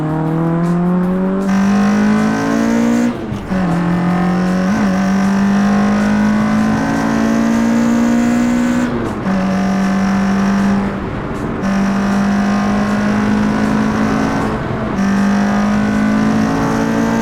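An older Citroen Saxo small hatchback drives hard, its engine droning loud and close as it revs up through each gear, with brief dips between shifts and a rising whine after every change.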